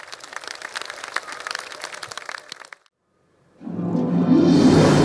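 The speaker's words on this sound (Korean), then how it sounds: "깜찍한 어린이들의 공연에 뜨거운 박수가 쏟아졌는데요" An audience claps for a children's performance at a Buddhist celebration: a brisk burst of scattered hand claps that stops abruptly, then a silent gap before a dense wash of noise rises.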